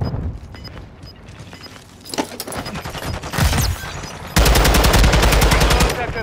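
Rapid automatic gunfire from a Call of Duty: Modern Warfare II multiplayer match, bursts building up and then a loud, dense sustained volley near the end, layered over other game sounds.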